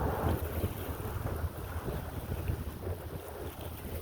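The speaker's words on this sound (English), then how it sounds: "There's a boat coming in here," A boat comes in on Lake Seymour in Vermont, heard as a low steady engine rumble mixed with heavy wind noise on the microphone and faint water wash, continuous with no voices.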